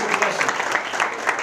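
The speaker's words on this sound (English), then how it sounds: "I need some clapping. We get some clapping?" An audience at a summer jobs program awards ceremony claps in a steady, dense wash of applause, with voices mixed in throughout.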